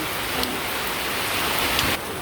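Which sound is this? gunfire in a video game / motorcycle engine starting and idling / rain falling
rain falling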